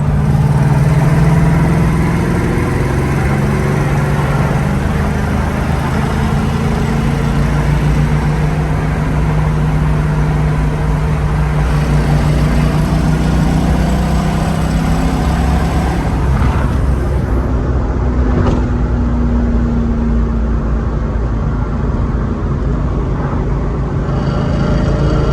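A Foxbody Mustang fitted with a Mac X pipe and a small exhaust leak from the headers to the X pipe, driving on an expressway; a loud, steady engine and exhaust drone with road noise runs continuously throughout.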